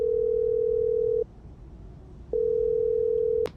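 A telephone ringback tone sounds on an outgoing call, with two long steady tones separated by a quieter pause, close and clear, and no one speaking.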